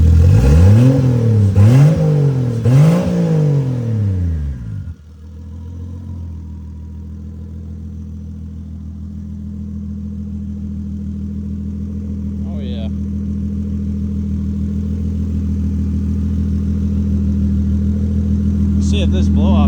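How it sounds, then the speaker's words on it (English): A turbocharged Lexus SC300 engine revs sharply about three times, then settles into a loud, steady idle. Faint whooshing and clicks come through near the end. "I don't feel like the turbo was that happy and loud before."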